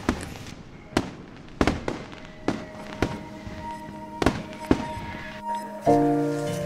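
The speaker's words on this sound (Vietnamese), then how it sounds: "Vì lúc này đang bước vào Tết Tây cho nên mọi người chơi pháo cũng khá là nhiều." New Year fireworks and firecrackers pop repeatedly at an Australian lakeside near Shellharbour, a string of sharp bangs at moderate distance with a low rumble at the end.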